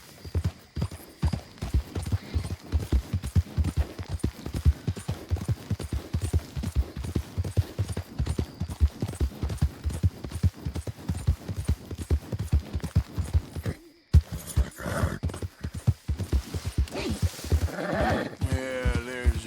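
In Red Dead Redemption 2, a horse's hooves clip-clop in a steady, close rhythm for a long stretch, pausing briefly before resuming, with a snort or whinny toward the end.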